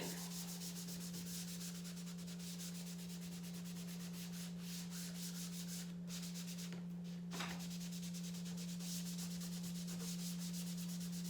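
A cloth rubs wood stain into a wooden string art board in quick, even back-and-forth strokes, faint and close over a steady electrical hum, with no talking.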